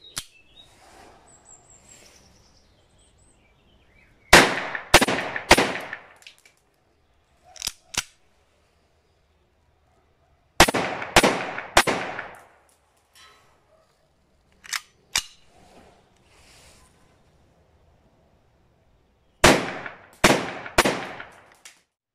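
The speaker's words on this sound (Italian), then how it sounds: "Adesso vi faccio vedere le prove di sparo di queste tre fantastiche pistole a salve" Three semi-automatic blank pistols fired in test, giving loud, sharp cracks in quick bursts of three or four shots, with pauses between volleys and a few single shots in between.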